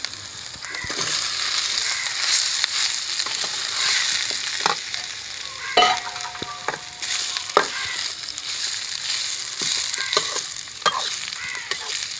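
Potatoes for crispy aloo samosa filling fry and get stirred in a hot pan, with a steady close sizzle under repeated scraping and stirring strokes throughout.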